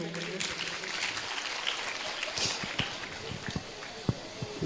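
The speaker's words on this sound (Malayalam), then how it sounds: "ഒരു കയ്യടി കൊടുക്കും ഇപ്പോഴേക്ക്" A lecture audience gives a short burst of applause, moderately loud and somewhat scattered, with a few sharper claps toward the end.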